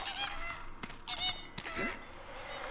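Birds call in the Shadow Man video game, with honking, goose-like cries rising over a steady game soundscape in a short burst, close and moderately loud.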